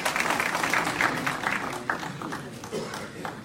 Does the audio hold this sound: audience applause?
yes